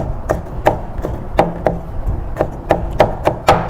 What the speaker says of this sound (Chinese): 取了一半大蒜，我们把它切成片